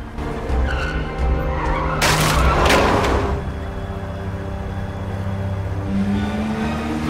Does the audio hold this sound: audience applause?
no